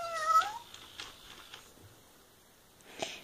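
A faint, short electronic meow at the start from a FurReal walking toy cat, followed by quiet clicks and whirring of its walking mechanism, with another soft sound near the end.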